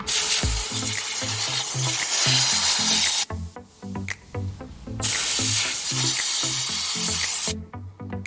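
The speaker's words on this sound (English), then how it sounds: "I really love to use compressed air in basically everything, but it's really good for getting out of the buttons" Compressed air blasting dirt out of the interior buttons of a 2022 Jeep Grand Cherokee L, as loud, close, steady hissing jets in long bursts, cut off briefly twice, over a faint rhythmic music bed.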